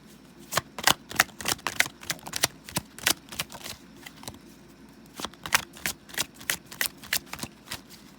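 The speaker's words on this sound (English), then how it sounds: "Let's get a card of advice for the viewer, please." Tarot cards shuffled by hand in a series of quick, crisp riffling bursts with brief pauses between them, close and fairly loud with no voices.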